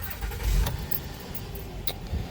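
A 2014 Honda Pilot with an intermittent long-start problem turns over and catches, a short burst of cranking settling into a running engine, close and fairly loud.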